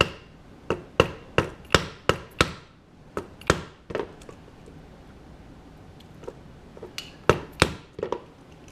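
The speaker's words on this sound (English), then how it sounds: "I'll punch me a hole." Leather being punched with a hole punch struck by a hammer during bag making: a quick run of six sharp, close taps, a few scattered knocks, then a final pair of firm blows in a quiet workshop.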